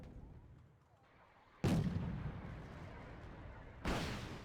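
K1 tanks fire across an open paddy field in Wargame: Red Dragon, two heavy booming cannon blasts about two seconds apart, each with a long rolling decay over steady battle rumble.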